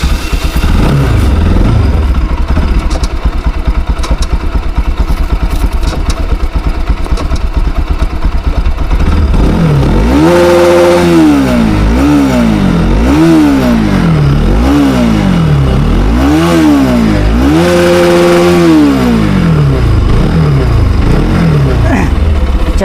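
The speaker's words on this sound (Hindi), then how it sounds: "अब NS 200 का भी सुन लेते हैं, इसके कैसे एग्जॉस्ट साउंड है।" A Bajaj Pulsar NS200 motorcycle idles with a rough, loud exhaust burble, then is revved repeatedly in rising and falling bursts, close and loud.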